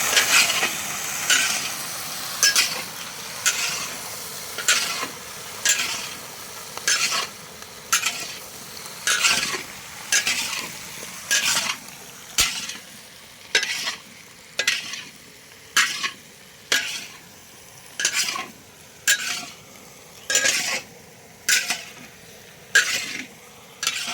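Aubergine, potato and cauliflower fry in mustard oil in a hot wok, sizzling steadily close by. A spatula scrapes and stirs in a regular rhythm, about once every second or two, with no talking.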